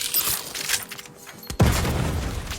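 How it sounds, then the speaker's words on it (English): In the video game Outer Worlds 2, an explosion goes off at a ship's airlock: a sudden heavy boom follows a brief lull in the game's ambience, then a rumbling crackle of debris lingers, loud and close, with no voices. "Something wrong with the airlock? Explosion imminent!"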